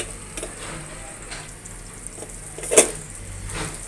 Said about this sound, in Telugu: డీప్ ఫ్రై చేద్దాం వేయించుకుందాం